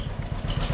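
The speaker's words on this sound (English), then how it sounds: "Left that tractor running." An antique tractor engine left running at idle during corn harvest, a close, steady chugging putter with regular knocking pulses and clatter, loud and without talk.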